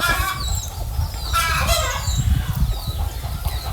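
Chickens and mildly diseased chicks cluck and cheep nearby in a busy, overlapping chorus of short calls and squeaky peeps, with no talk over them.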